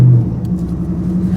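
A 1991 Corvette ZR-1 running through an aftermarket exhaust, a deep, steady idle rumble close by, with a brief louder burst at the very start.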